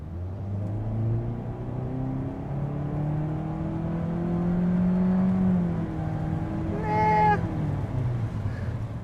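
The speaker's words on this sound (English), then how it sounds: "I do wish there wasn't such a moan and a groan from the engine here" A 2022 Mitsubishi Eclipse Cross with a small four-cylinder turbo engine accelerates from a slow start, a rising moaning drone that climbs in pitch through the gears, with a brief high whine near the end.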